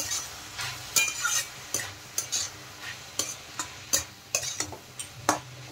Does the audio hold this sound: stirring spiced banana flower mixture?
yes